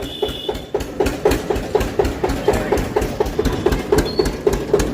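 Riding aboard a tractor, the engine chugs in a fast, even rhythm of heavy thumps, with rattling vibration throughout, loud and close.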